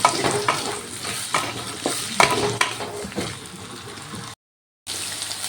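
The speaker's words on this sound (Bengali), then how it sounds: "এবার আলুগুলো ভালো করে ভেজে নেব" Potato pieces sizzle in oil while a spoon stirs them, with repeated scraping strokes over continuous frying, close and moderately loud, broken by a brief silent gap near the end.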